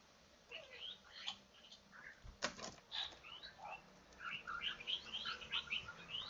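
Bursts of high chirping and tweeting from parrots in Minecraft, scattered and busy, with a brief clack partway through; no talking.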